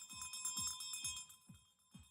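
A bell rung for the final lap of a California bicycle race clangs in quick repeated strikes, about five in a row, bright and ringing over a faint background with no voices heard.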